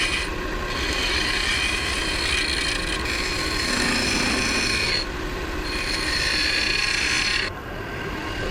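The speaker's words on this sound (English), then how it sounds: "sanded up to 240" Laburnum wood box spinning on a lathe while being sanded, giving a steady, continuous close rasping hiss with a low machine hum beneath, the friction briefly easing and resuming a few times.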